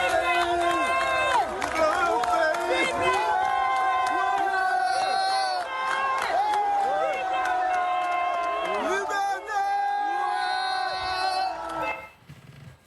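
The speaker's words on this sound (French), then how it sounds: "certains habitants scandent le mot « liberté »" A crowd of Gabonese people fills the street, chanting and shouting "liberté" in rhythmic waves, with whoops and cheering layered over a dense mass of voices that fades out at the end.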